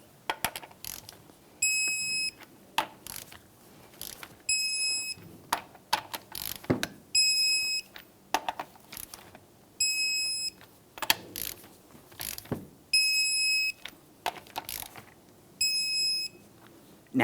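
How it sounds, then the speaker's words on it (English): Wheel lug nuts being torqued in a crisscross pattern on a Chevrolet Trailblazer, with repeated bursts of ratcheting clicks and sharp high electronic beeps recurring about every two to three seconds, close by with no talking. "let's torque these in a crisscross manner."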